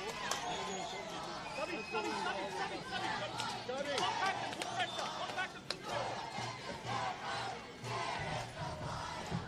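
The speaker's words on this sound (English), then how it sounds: "And you can hear the crowd." A football crowd at Christie Park roars and chatters through an NPL men's match between NWS Spirit FC and Hills United FC, a dense continuous din of cheers and shouts with some swells.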